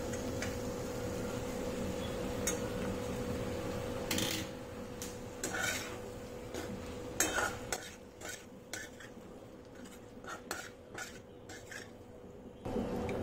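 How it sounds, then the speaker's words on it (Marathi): Cooked macaroni pasta tipped into a pan with vegetables and stirred, giving soft scraping and clinking of a spoon against the pan with some light sizzle, steady and close with no talk. "आणि आता टाकूया मॅक्रोनी."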